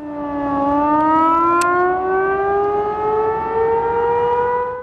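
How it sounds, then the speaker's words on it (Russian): Electric civil defense sirens on Kuibyshev Square sound a loud warning during a civil defense drill, a steady rising wail with layered harmonic tones that continues through the whole stretch with no talking. "Прерывистый гудок электросирен на площади Куйбышева звучит 3 минуты."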